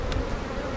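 A small honeybee colony buzzes during a mid-June hive inspection, a dense, steady hum of many bees close by, with a brief rustle partway through.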